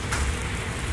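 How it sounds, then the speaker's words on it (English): Rain falls in a steady, even patter outdoors in the evening, a close broadband hiss with no voices or other distinct sounds. "Oh, it's raining."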